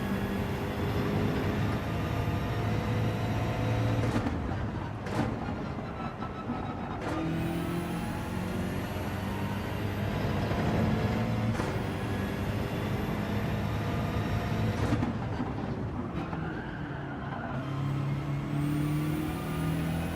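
BMW race car in Gran Turismo 7 braking hard and sliding into a corner, a steady loud engine drone with shifting harmonics and a few sharp gear-change breaks over continuous tyre and road noise.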